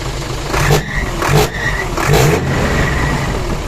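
Hino Mega 500 truck diesel engine running just after a valve adjustment, loud and close with a steady idle broken by three brief revs, no voices over it.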